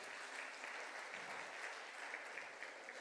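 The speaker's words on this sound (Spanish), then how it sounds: "Dele un aplauso por ese concepto." A church congregation applauds together, a steady, even wash of clapping from many hands at moderate distance, fairly quiet, with no voices on top.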